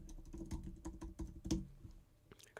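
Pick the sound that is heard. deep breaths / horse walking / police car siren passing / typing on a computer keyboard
typing on a computer keyboard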